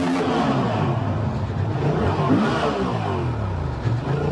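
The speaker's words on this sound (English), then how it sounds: "But rev bomb time, I think." A Honda Transalp XL750 motorcycle is revved hard, its engine rising and falling in loud repeated rev bursts close by, with wavering pitch sweeps up and down.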